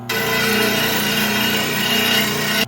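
Bench grinder sharpening a lawn mower blade edge, a steady loud close grinding whine with harsh rasping that holds evenly throughout.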